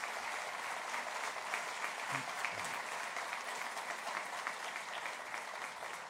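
Steady applause from an audience at a solemn city council session marking the city's 481st anniversary, dense and even throughout, with a faint voice briefly audible beneath it.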